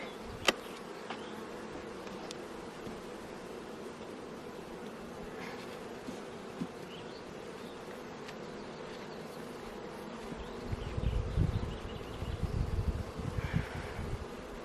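Honey bees buzz steadily around an open beehive during an inspection, a continuous close droning hum with brief louder swells as bees pass near, no voices present.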